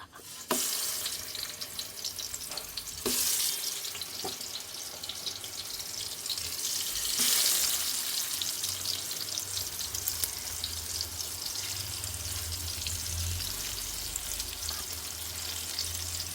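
Pineapple pieces roast in oil in a hot pan, giving a steady, close frying sizzle throughout, broken by a few sharp clicks and bumps of the pieces being moved.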